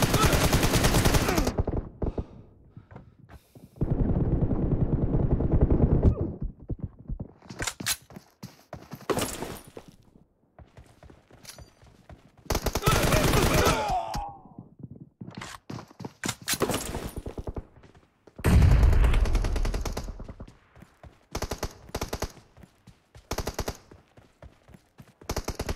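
Loud bursts of automatic gunfire from the mobile battle-royale game PUBG Mobile on Android, coming in several separate volleys with short quiet gaps and scattered single shots between them.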